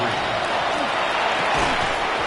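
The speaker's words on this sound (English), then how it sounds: "The noise very loud from the crowd." Loud, steady roar of a packed stadium crowd at an American football game between New Orleans Saints plays, a dense wash of cheering noise filling the whole stretch with no pauses.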